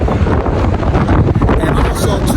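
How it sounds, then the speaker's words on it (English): Strong coastal wind batters the microphone at Indian Beach on the Oregon coast, loud and gusty with irregular buffeting, and a voice talks faintly underneath. "there's a lot of wind out here"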